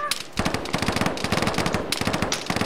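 Rapid automatic gunfire in the video game Arma 3 rattles in dense, loud bursts of cracking shots, with a brief gap near the start and nearly continuous firing after.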